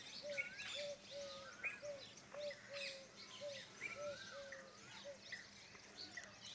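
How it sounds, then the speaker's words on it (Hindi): A bird calls near an outdoor morning garden spot, with repeated short, evenly spaced calls over soft chirping from other birds in the background. "ये मोर पक्षी बिल्कुल मेरे नज़दीक आना चाह रहा है।"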